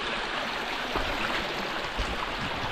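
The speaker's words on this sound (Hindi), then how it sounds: "ये हमारे यहाँ का ठंडा पानी" Cold mountain stream water flowing steadily through a forest, a continuous close rushing and gurgling wash with no voices over it.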